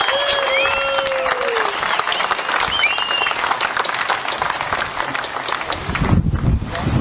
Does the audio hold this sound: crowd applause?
yes